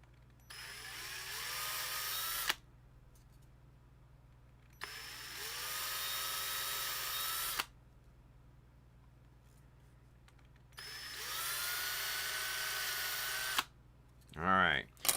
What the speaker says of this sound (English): drill that all the way through.